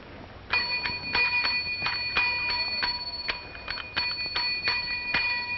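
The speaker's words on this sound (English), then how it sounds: "Yes, take that bell and put it away." A small bell rings over and over in quick irregular strokes, bright and close, the metallic tone hanging between strikes.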